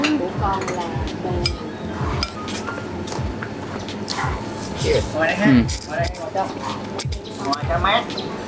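Chopsticks or utensils clinking and squishing through a bowl of noodles with lime and pickled garlic at a Saigon street food spot, repeated light knocks under busy background chatter and voices nearby.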